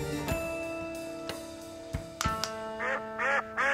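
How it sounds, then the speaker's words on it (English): Duck quacks from a toy or sound effect during a game show task about finding hidden ducks, with a few nasal quacks near the end over tonal background sounds, fairly close and clear. "That's a duck."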